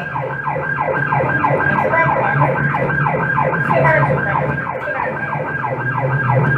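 An organ transport vehicle speeds along with its siren wailing loud and continuous in a fast repeating rise-and-fall yelp, heard close amid road traffic noise.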